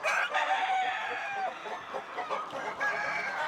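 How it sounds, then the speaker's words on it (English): Chickens cluck and chatter close by in a busy coop, a rooster crowing among overlapping bird calls, steady and loud throughout. "Chickens?"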